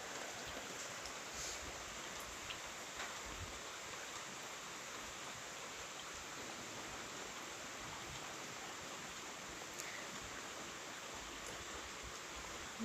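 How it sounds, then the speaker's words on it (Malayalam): Heavy rain falls in a steady, dense hiss that stays even throughout, faint and continuous, with no voices. "നല്ല മഴയാണ്"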